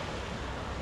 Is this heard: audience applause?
no